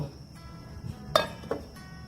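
A lid set down on a pot of chicken, potatoes and chickpeas: a single sharp metallic clink followed by a lighter second tap, faint against a quiet kitchen background.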